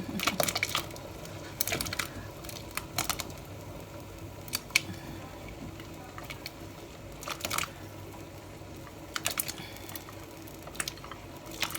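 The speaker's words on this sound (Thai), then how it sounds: "แครอทก็หั่นเป็นแว่น" A knife slices carrots into rounds for a sausage soup, giving scattered quick taps and crunches on a cutting board, some in short bursts, fairly quiet and close.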